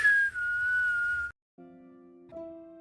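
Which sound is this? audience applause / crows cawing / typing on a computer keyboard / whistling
whistling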